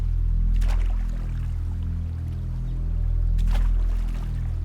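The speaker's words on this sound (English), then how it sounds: "I think that splashing around has distracted him." Two brief bursts of water splashing stand out over a steady low engine drone, like a boat idling nearby on the Zambezi River.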